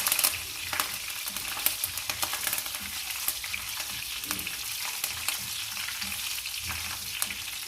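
Curry leaves, red chili and cumin sizzle and crackle in hot oil for a tempering while preparing khattay aaloo, a continuous close frying hiss with small pops and occasional stirring.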